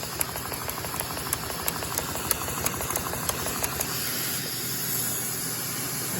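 A Lego model of a Detroit Diesel engine runs at a decent speed, giving a steady mechanical whirr with rapid clicking and light knocking plus a constant hiss, close and continuous with no talk.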